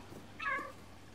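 A cat in the video game Stray gives a single short meow, fairly soft against quiet background noise, with no one talking.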